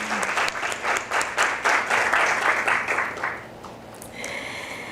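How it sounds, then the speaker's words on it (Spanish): An audience applauds students at a university archive presentation at PUCMM, a dense clapping crowd filling the room before fading out near the end, leaving a quieter murmur. "este aplauso va para ustedes también"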